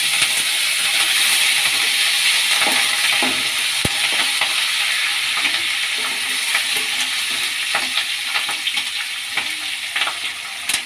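Curry leaves and peanuts fry in a hot pan for raw mango chitranna, giving a steady, close, bright sizzle with scattered crackles and occasional stirring clinks throughout, with no talking.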